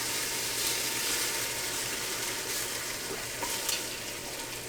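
Chicken wings crackle and sizzle in a Ninja Foodi, a dense, steady hiss of frying with a low appliance hum underneath and a few sharper pops near the end.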